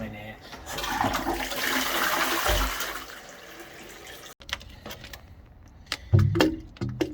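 A second toilet being flushed on a plumbing job with slow-draining, blocked drains: a loud close rush of water for about four seconds, then quieter trickling and drips with a few knocks and clatters near the end.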